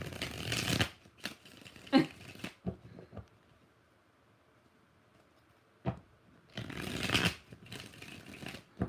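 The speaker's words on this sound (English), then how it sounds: "One more shuffle." Tarot cards are riffled and shuffled up close in bursts of crisp flapping, with a quiet pause between the early and late shuffles.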